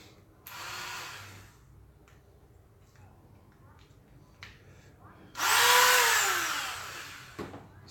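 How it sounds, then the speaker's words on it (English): Dremel rotary tool fitted with a steel cutting wheel gives two loud high-pitched whining bursts, a short one early and a longer, louder one later, with faint handling noise in between. "Dremel."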